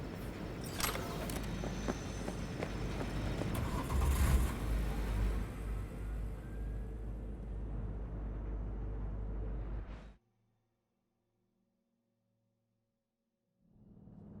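A car in Cyberpunk 2077 drives with a steady, loud low engine rumble for about ten seconds. It cuts to silence, then the rumble starts to return near the end.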